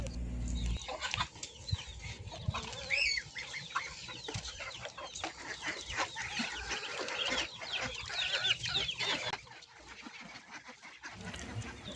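Native chickens and Muscovy ducks at feeding time cluck, squawk and make hoarse honking calls in a busy, overlapping chorus at close range, with no talking.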